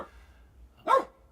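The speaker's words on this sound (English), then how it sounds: "Bernard barks to try to get Lucy to play" A dog gives a single short, sharp bark at an animal sanctuary, trying to get another dog to play; quiet low rumble around it and no talking.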